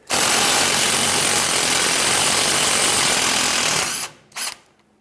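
A power tool whirs loudly and steadily as it spins off a 13mm bolt on the rear differential bracket of a 2014-2018 GMC Sierra 1500, then cuts out, with one short final burst.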